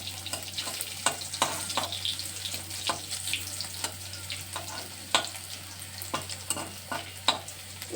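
Dry red chillies and bay leaf sizzling in hot oil for a pumpkin-greens curry, a constant crackling fry close by with sharp spoon taps and scrapes recurring at irregular intervals and a low steady hum underneath.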